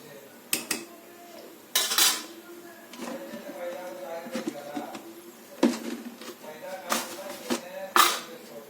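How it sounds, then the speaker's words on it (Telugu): A spoon clinks and scrapes against a metal pot as rice is stirred through vegetable biryani, a run of irregular knocks and scrapes, some louder, with a voice talking quietly in between. "సో రైస్ వేసుకున్న తర్వాత మళ్ళీ ఒక్కసారి మొత్తం కలుపుకొని"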